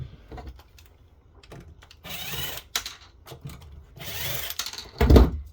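Power screwdriver backing screws out of the side of an HP all-in-one PC with a 21.5-inch touchscreen during a teardown, giving short whirring bursts separated by pauses, with a louder thump near the end.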